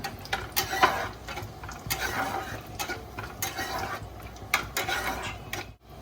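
Cardamom and cinnamon sizzle and crackle softly in a hot pan, with occasional scraping stirs and light clinks.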